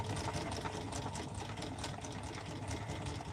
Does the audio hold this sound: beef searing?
no